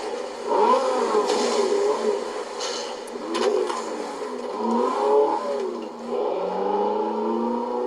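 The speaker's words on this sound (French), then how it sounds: "le moteur qui prend 8000 tours minutes" A V8 engine revving in the snowy racing game Forza Horizon 4, a steady mid-level engine drone that rises and falls in waves of revving over several seconds, heard alone without talk.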